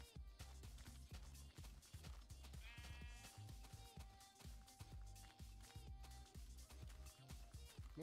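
Sheep bleating in Minecraft Betacraft gameplay, a few wavering bleats over rhythmic in-game background music and footstep-like thumps, moderately loud and near.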